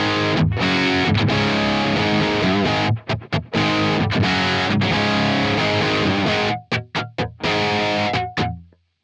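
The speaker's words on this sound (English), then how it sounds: "So that is a perfect drive sound." A TONEX capture of an FMAN BE amp plays a driven electric guitar tone, loud and saturated, with sustained chords cut by several sharp stops and short chopped stabs near the end.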